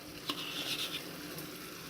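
Chopped coriander is dropped into a pan of mushroom curry as it sizzles, oil rising to the surface. A soft hiss carries on under a brief light stir and patter. Faint and close, with no talking.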